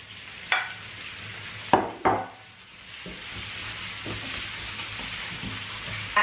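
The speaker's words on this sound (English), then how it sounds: "I'm just going to throw all my shrimp in here" Shrimp tossed into a hot pot for coconut sauce land with a few sharp clattering splashes, then a soft, steady sizzle builds and holds underneath, fairly close and without any talk.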